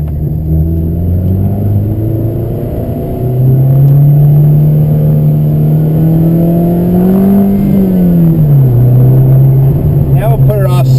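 A lowered Abarth hatchback cruises at low city speed, its engine a steady low drone that rises in pitch and dips as the driver eases on and off the throttle, heard from inside the cabin with occasional talk.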